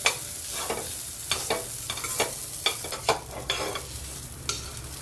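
Coarsely ground rice being roasted in ghee in a pan for kheer, repeated scraping stirs in an uneven rhythm over a soft steady sizzle, close and moderately loud.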